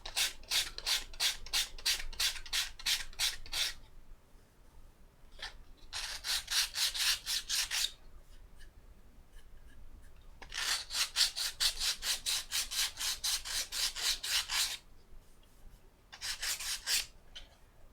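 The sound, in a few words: filing or sanding soft plywood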